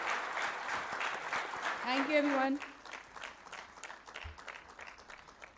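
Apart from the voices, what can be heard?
audience applause for a street play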